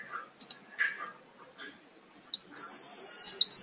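A yellow-browed sparrow (Ammodramus aurifrons) gives a high, sustained buzzing call lasting about a second, loud and close, after several faint scattered chirps and rustles.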